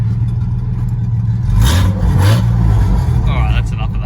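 A loud Ford Falcon engine idles roughly, then revs hard twice through open headers, with raw, crackling exhaust and a voice briefly in the background.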